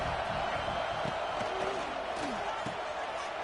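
Football stadium crowd roaring as the home defense holds in the red zone, a dense sustained wall of cheering and shouts with scattered louder whoops and claps throughout.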